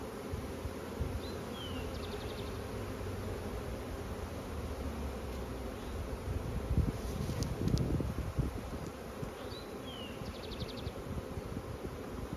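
Dense buzzing of a honey bee swarm fills the air continuously during a swarm capture, mixed with wind rumble and occasional handling noise nearby.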